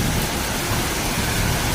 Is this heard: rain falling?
yes